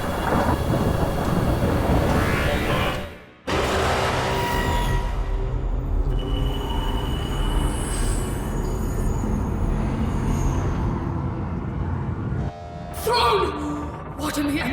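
A warp storm in a Warhammer 40,000 audio drama aboard a ship caught in the warp: deep rumbling thunder rolls on for long stretches with a cut to near silence, then crackling bursts over a low roar, while voices speak.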